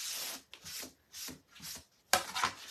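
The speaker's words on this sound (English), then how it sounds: "So I'm just sanding and waxing so we can chalk on it." Hand sanding of painted wood furniture gives repeated rasping strokes, about six scrubbing passes in an uneven rhythm, close and fairly quiet, with the last strokes sharper and brighter.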